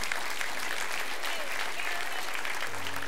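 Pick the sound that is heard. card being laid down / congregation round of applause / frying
congregation round of applause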